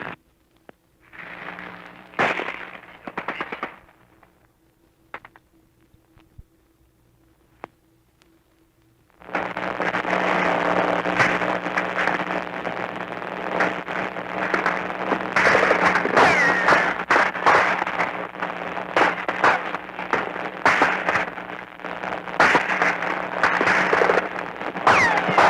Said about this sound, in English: Machine guns have been going like this all morning.